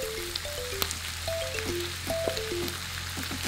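Water splashed into a hot frying pan, sizzling steadily at close range with a constant hiss, under a background tone and some small clinks.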